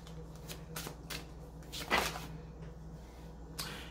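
Heal Yourself reading cards are shuffled by hand in a quiet room, giving a series of soft, quick riffling bursts with one sharper flutter in the middle, close and gentle.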